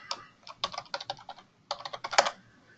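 A password is typed on a computer keyboard in two quick bursts of crisp, close key clicks separated by a short pause, quiet and with no voices.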